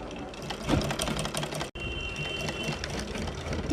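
A sewing machine runs steadily at close range as it stitches a doubled strip of fabric along a boat-neck kurti neckline, with a brief stop midway before the whirring resumes.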